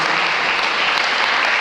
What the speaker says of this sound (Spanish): ¿Por qué no le das un aplauso al Señor con todo tu corazón?